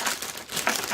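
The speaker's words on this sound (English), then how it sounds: "all this plastic crinkling" Plastic packaging crinkles and crackles close to the microphone while scrapbooking goods are unboxed, a brief continuous rustle with a couple of sharper crackly bursts.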